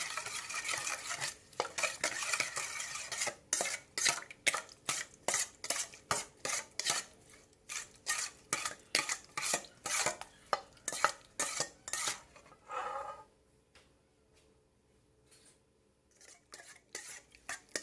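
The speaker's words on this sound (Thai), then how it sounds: "คนให้เข้ากันอีกครั้ง คนไปเรื่อยๆครับ จนกว่าน้ำตาลจะละลายหมด" Rhythmic scraping and clinking of a utensil stirring Thai fried egg salad (yam kai dao) in a dish until the sugar dissolves, fast repeated strokes close by, pausing briefly near the end before resuming, no talking.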